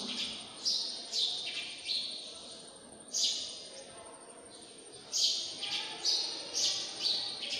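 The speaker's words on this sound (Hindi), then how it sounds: "सुबह की मंगल वेला, सुखद वेला, चिड़िया चहचहाती है।" Bright, high chirps and tweets from small birds come in repeated bursts over a soft background hiss.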